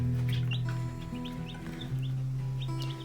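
Young barred rock and meat chickens cluck and peep continuously at close range, a steady layered chorus of birds scratching and pecking at the ground, with no talking.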